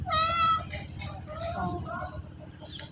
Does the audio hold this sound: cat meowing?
yes